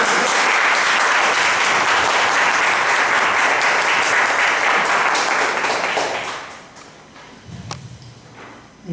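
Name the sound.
church congregation applause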